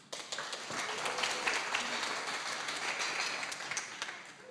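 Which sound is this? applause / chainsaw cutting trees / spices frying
applause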